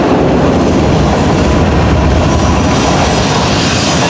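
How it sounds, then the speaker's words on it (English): An ore train rolls past close by at a mining site, a loud, steady rumble of rail cars and wheels with a continuous clatter and no letup across the whole stretch. "And here comes the ore train."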